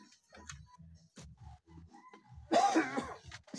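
A person nearby gives a single short, harsh cough after a stretch of faint ticking and soft knocking sounds.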